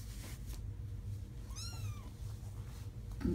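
A three-week-old foster kitten gives a single thin, rising-and-falling meow, faint and brief, against quiet room noise.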